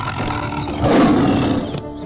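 A cartoon tiger father prowling nearby lets out a loud, rough roar that swells in the middle and fades, over a dense animated-series soundtrack.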